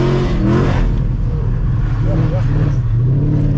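A 700HP Ford Mustang doing donuts, a loud continuous engine roar and tire rumble heard from inside the car, with brief talk over it.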